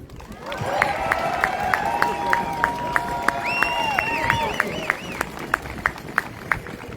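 Crowd at an outdoor political rally applauds and cheers, a dense wash of clapping with voices raised, steady and fairly loud throughout.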